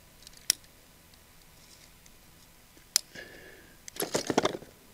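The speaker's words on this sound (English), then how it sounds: "a pretty simple piece of PVC plastic. Let's see if this one will cut through." PVC plastic pipe being cut through with a cutter for a garden drip irrigation setup, giving two sharp separate snaps and then a burst of crisp crunching clicks near the end, close and alone.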